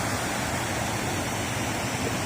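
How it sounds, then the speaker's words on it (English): A waterfall in the mountains around Hakuba, Japan, makes a constant broadband rush of falling water, steady and fairly loud, with no talking. "So that's a waterfall."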